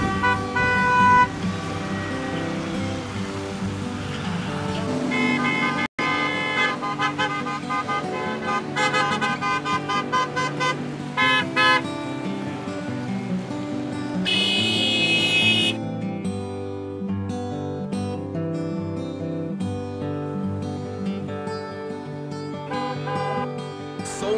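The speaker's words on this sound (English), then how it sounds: "You guys honk, we too. You just honk." Car horns honk repeatedly in roadside traffic at a honk-for-Palestine fundraiser, with overlapping sustained and short toots sounding loud and near, layered over steady vehicle noise.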